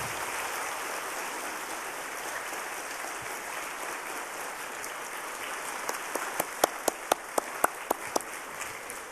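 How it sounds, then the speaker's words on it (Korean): Church congregation at a Sunday service giving applause, a steady broad wash of clapping, with a few sharp, evenly spaced louder claps rising above it toward the end. "우리 진심으로 축하하면서 뜨거운 박수로 격려하십시다."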